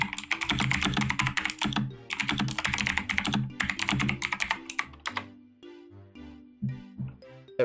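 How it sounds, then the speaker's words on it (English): Rapid computer keyboard typing clicks close and crisp in quick bursts, pausing and resuming, over soft background music during an animation stream. "Let me know if the keyboard's too loud too."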